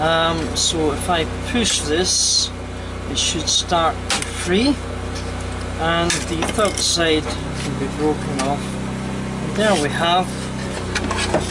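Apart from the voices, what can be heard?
neighbour's pressure washer cleaning a driveway in the background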